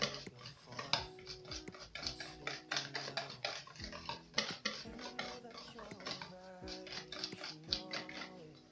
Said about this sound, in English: So now I mix it again.